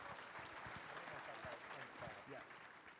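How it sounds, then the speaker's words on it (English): Audience clapping at a college football kickoff luncheon, a fairly faint steady patter of applause from a crowd, with a voice speaking over it. "you can clap. That's okay."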